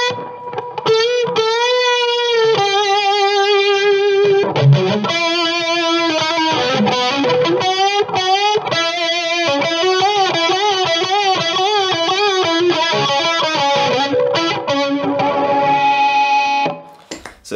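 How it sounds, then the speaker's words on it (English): Electric guitar played through a pedal with a shimmering chorus effect, clean spiky chords and melodic runs with a slightly boosted, wavering tone, loud and close, continuous for the whole passage without talking. "I mostly use it for that sort of chorusy sound, which I quite like on sort of spiky clean stuff"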